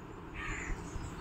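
A crow caws once in an organic home vegetable garden; it is faint and distant over a constant background hiss, with no voices.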